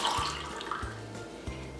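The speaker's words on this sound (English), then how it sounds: "So if I pour it into this glass, it's going to take the shape of this glass." Water poured from a container into a glass at a kitchen counter, a short close gurgling splash with a few glugging pulses over under two seconds.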